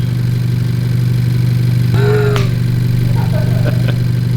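A car engine runs steadily on a dyno with a loud, constant hum, while a voice briefly speaks over it.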